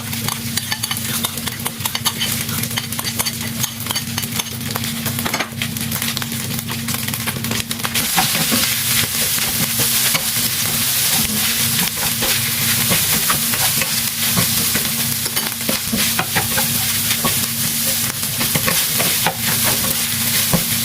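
Egg fried rice sizzles steadily in a hot pan while being stirred, with a dense continuous frying hiss and scraping of the spatula throughout, no talk.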